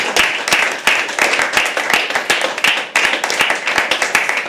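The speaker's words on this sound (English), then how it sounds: "huge round of applause for her" An open-mic poetry audience at The Habitat claps for a poet, dense, lively applause of many hands filling the room continuously, loud and close.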